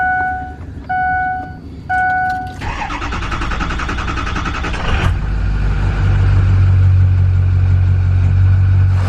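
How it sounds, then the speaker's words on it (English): A Ford F350 pickup with a 6.0 turbo diesel sounds three warning chimes, then the starter cranks briefly before the engine catches with a loud clattering surge and settles into a steady, close, rumbling idle. "so we're gonna get the truck started"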